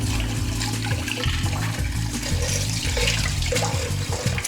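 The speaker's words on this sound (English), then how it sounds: "Rinse off my hands." Hands rinsed under a running kitchen tap, a steady rush of splashing water lasting a few seconds, close and fairly loud, with no talking.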